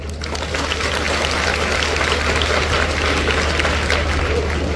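An audience at a teachers' award ceremony claps in a dense, steady wash of applause that stays even and fairly loud throughout.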